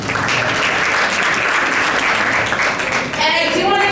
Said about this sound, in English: A round of applause for all of you for joining us as well.